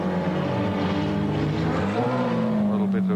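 Ford Sierra and BMW touring cars race at Amaroo in a 1987 AMSCAR round, a loud continuous engine roar whose pitch climbs and shifts as the cars pass, with commentary talk running over it.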